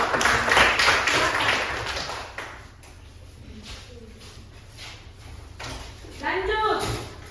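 A classroom of students claps for a student group in a short, scattered burst of hands, then a voice speaks over a quieter room.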